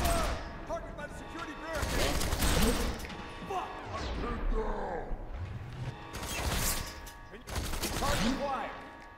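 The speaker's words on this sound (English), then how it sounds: "Someone is just shooting me" Gunfire in the first-person shooter FEAR 3, bursts of shots and metallic crashes rising and falling across the whole stretch, mixed with game effects and a voice talking over it.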